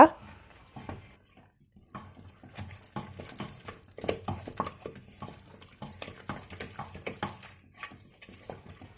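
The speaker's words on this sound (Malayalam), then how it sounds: "ഇനി ഈ പൊടികളുടെ പച്ചമണം മാറുന്നത് വരെ നന്നായിട്ട് ഇളക്കി കൊടുക്കുക" A spoon stirs garam masala and chicken masala powders in a pan for chicken biryani, with repeated scraping strokes in an irregular rhythm over a faint sizzle.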